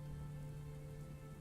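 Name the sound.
rain falling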